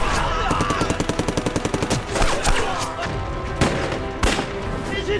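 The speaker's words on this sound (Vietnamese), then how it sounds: "Các anh em bắn cho tôi!" Rapid machine-gun bursts and rifle shots ring out in an anti-Japanese war battle, a dense run of evenly spaced shots early on followed by heavier single blasts and booms, loud and continuous.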